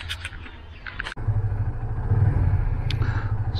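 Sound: motorcycle riding by rider wearing MT Targo Pro helmet

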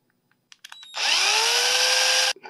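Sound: drill clearing a hole in a 3D printed part

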